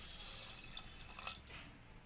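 Rice being washed with water, a quiet close trickle and splash with a few small swishes and drips clustered in the middle, faint overall.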